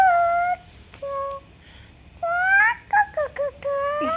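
A three-year-old girl imitates an owl's call with a series of short, high, tonal hoots separated by brief pauses, voiced close and fairly clear.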